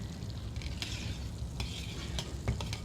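Tapioca pudding cooks on a stovetop burner with a soft bubbling sizzle, while a spoon scrapes and clicks against the pot in occasional stirring strokes, close and fairly quiet.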